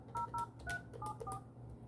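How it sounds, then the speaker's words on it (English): Touch-tone keys on a Vertical 1050i office phone beep one after another, about five short dual-tone presses in an uneven rhythm, quiet and close, with no talking over them. "I'm going to dial 9 plus my number"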